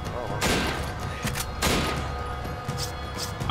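Sniper rifle shots in a video game ring out as two loud, sharp reports a second or so apart, with quieter game noise and a faint voice between.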